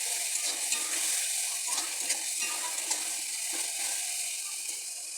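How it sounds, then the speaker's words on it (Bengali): A paste of ground cumin, chilli and coriander fries in a pan while being stirred hard, producing a bright, close sizzle broken by rhythmic scraping and clicking of the spoon that fades slightly at the end. "দিয়ে আমি ভালো করে খুব মশলাটাকে কষিয়ে নেব"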